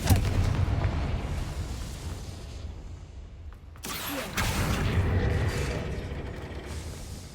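A Confringo spell goes off in Hogwarts Legacy with a booming blast, rumbling and mechanical clanking carrying on before a second loud burst bursts out midway, leaving heavy rolling debris noise behind.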